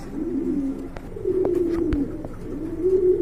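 Pigeons, a breeding pair kept for running, coo close by in a continuous low, rolling call that swells and fades several times.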